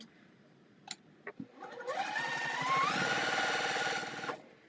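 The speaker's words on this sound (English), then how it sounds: "So I'm gonna sew these 4 and then add the other portion." A sewing machine stitching quilt pieces, a few light clicks and taps, then a close, steady whirring run of the motor lasting about three seconds before it stops.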